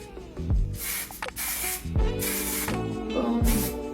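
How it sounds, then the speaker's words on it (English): Hair spray from an aerosol can during a blowout styling session, sprayed in several sharp hissing bursts of about half a second each, close and loud, with no talking. "I'm going to spray."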